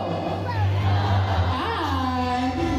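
A zoo bird-show crowd at Cebu Safari in the Philippines calls out a greeting to a macaw named Jumbo, a loud, close chorus of many overlapping voices over steady background murmur.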